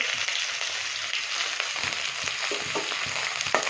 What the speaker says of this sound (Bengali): পেঁয়াজগুলো একটু ভেজে নেবো